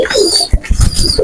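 Pure-line Bhusal pigeons, a breeding pair sitting on eggs in a breeding room, coo loudly and close up in a brief run of throaty, warbling notes.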